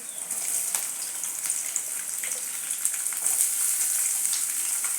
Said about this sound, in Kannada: ಈಗ ನೋಡಿ ಈರುಳ್ಳಿಯನ್ನು ನಾನು ಹಾಕ್ತಿದ್ದೀನಿ